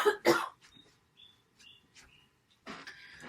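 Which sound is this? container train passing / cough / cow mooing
cough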